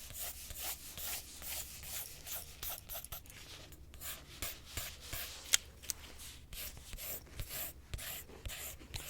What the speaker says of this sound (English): I'm just going to start off by doing this a quick sketch